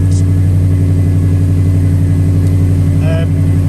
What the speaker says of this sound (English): you might find it a bit difficult to hear me with the car running